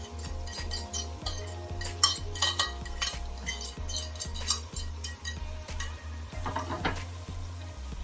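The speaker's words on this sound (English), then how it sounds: "I'm just going to give that a stir now." A spoon stirring saltfish and seasoning in a hot pot for Jamaican ackee and saltfish, with steady sizzling and repeated rhythmic scraping and clinks of utensil against metal, close and moderately loud.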